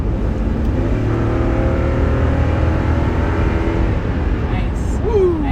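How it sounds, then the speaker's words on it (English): Toyota Sequoia V8 engine of over 400 horsepower roaring as the vehicle drives, a loud sustained drone with rising tones and a brief whine near the end, heard alone without talk. "That is the 400 plus horsepower of the V8 engine in the Sequoia."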